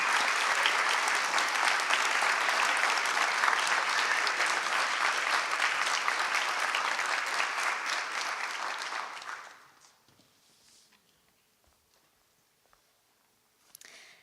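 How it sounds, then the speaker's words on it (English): Warm audience applause for new Maynard High School National Honor Society members at an induction ceremony, dense steady clapping lasting about nine seconds before fading out into near silence, with a faint late knock. "Please give a warm round of applause to congratulate the newest members of Maynard High School's National Honor Society."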